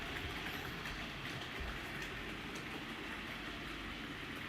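Railway cars shunting, a steady rolling rumble of rail wagons with faint clickety-clack, continuous and moderately distant with no talk.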